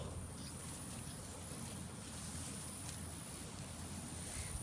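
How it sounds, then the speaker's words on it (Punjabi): Faint, steady wind noise rushing past outdoors, a low continuous hiss and rumble with no talking. "ਹਵਾ ਚੱਲ ਰਹੀ ਹੈ ਠੰਡੀ ਠੰਡੀ"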